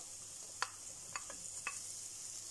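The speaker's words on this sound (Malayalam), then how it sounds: "ഇതെല്ലാം ഇട്ട് വീണ്ടും നന്നായിട്ട് വഴറ്റണം" Green chillies and chopped chicken sauté in a hot pan, with a steady, quiet sizzle and a few soft scraping strokes of a spatula as the mixture is stirred.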